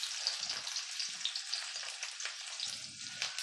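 Onion and capsicum frying in hot oil for a cabbage Manchurian, a steady bright sizzle with occasional low stirring thumps, close and continuous with no talk.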